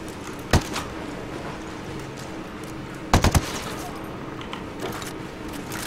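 Gunfire in Ghost Recon Wildlands: a sharp single shot, then a tight cluster of three or four rapid reports a few seconds later, heard over a steady game background with faint scattered sounds between.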